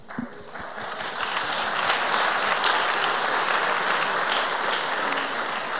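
Sustained audience applause fills a conference hall after a talk at a Symfony developer event in Paris, a dense wash of clapping that swells within the first second and holds steady until the end, with no speech over it.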